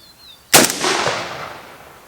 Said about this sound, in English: We're going to do 3 rounds out of each caliber.